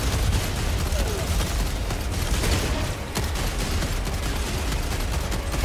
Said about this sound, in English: Yeah, incinerate shotgun is dope